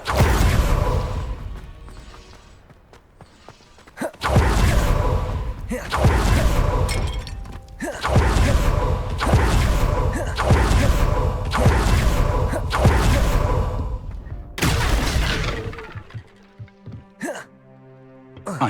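Repeated blasting spell casts in Hogwarts Legacy, a series of loud explosive bursts in steady succession, each crashing and shattering, with a voice amid the fight and a quieter close.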